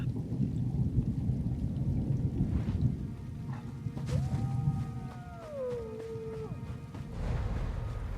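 Stormy weather in the video game Elder Scrolls Online's Elsweyr zone, a steady low thunder rumble with rain noise throughout, a brief tonal animal-like whine passing midway, no speech.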